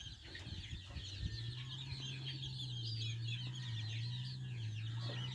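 Young chickens in a coop cluck and peep continuously at moderate distance, with a steady low hum running underneath the flock chatter.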